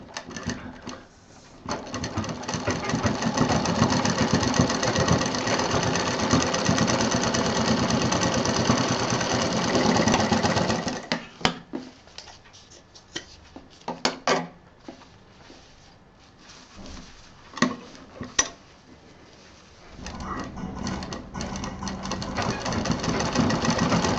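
A sewing machine stitches a zip onto a sling bag, whirring loudly in a long continuous run, pausing with scattered clicks and handling noises, then starting up again.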